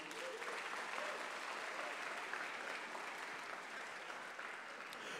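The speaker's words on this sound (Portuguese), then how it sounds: "Vamos dar um aplauso bem forte para Jesus." A church congregation gives a strong, sustained round of applause, a dense even wash of clapping from many people, heard faintly as if from a distance.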